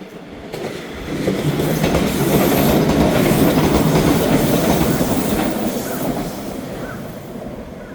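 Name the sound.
local passenger train passing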